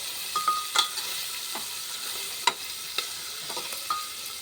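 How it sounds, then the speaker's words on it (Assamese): Ginger garlic paste fries in a pan until brown, giving a steady soft sizzle broken by a few sharp scrapes and clinks from stirring, with no talk. "বিশেষ আদা ৰচুনটো ব্ৰাউন কালাৰ হ'ব লাগে বুলি কয়"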